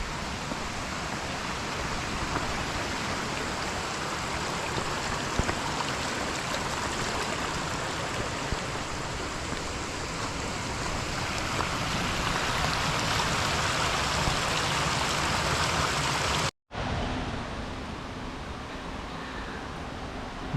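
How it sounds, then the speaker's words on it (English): Steady rushing river water pours over rocks nearby, a constant loud roar with broadband hiss, briefly cut off near the end before resuming. "It's like another river crossing."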